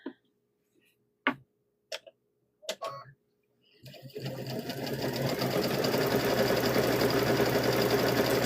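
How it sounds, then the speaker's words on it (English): A sewing machine stitches around all four sides of a hummingbird and butterfly quilt block, starting after a few sharp clicks and then running in a steady, loud, continuous whir close by. "So we're going to sew around all 4 sides of this."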